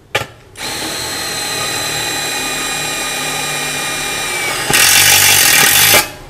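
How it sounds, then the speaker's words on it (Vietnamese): A power screwdriver or impact driver drives screws into corrugated metal roofing sheet, a loud close whine running steadily for several seconds before a brief harsher, louder burst at the end, with no talking. "Cứ nghe cái lực búa con này là biết có lực."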